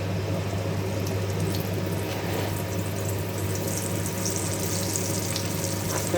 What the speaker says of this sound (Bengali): আমি আজকে একটু তেল দিয়ে ভাজছি